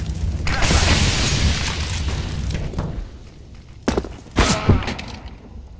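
An incendiary grenade is thrown in the Counter-Strike video game, giving a dull boom and thud followed by a sustained burning roar. Sharper bursts near the end stand out against the fire.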